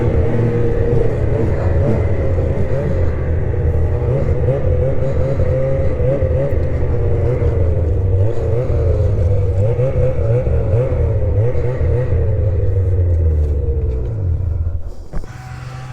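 The small new engine of a 2027 XRS 600RR motorcycle runs hard, with a steady, loud, buzzy drone and wavering pitch under load that drops off sharply at the very end.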